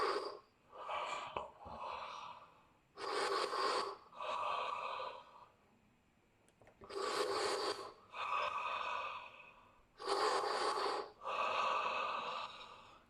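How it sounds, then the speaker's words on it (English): Breath of fire breathing exercise in a morning ritual: forceful, noisy breaths through the nose pushed by the abdomen and diaphragm, close and loud, in six bursts with short pauses between them, with no talking. "Fiery inhale,"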